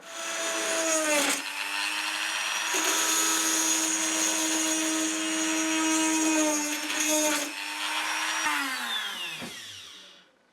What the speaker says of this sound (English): I'll just use the Dremel and drill out the other 2